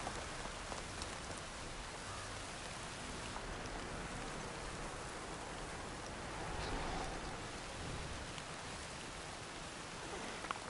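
Steady rain falls in the video game Horizon Forbidden West, a dense, even hiss of drops that holds at the same level throughout, with no voices over it.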